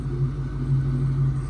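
A Ford Mustang GT SN95 V8, freshly repaired after a blown-out spark plug and cylinder head work, idles with a low, steady rumble close by.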